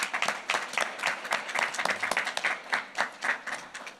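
Audience at a parish council meeting claps in a modest round of applause, individual hand claps distinct and uneven, fairly close and unaccompanied by talk.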